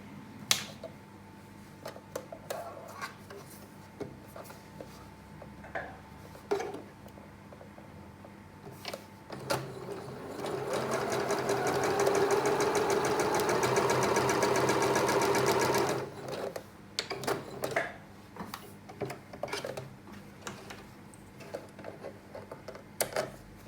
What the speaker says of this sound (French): on va coudre ce côté-là